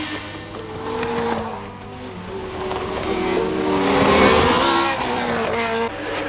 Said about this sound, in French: la Ferrari et la Tyrrell se livraient un somptueux duel.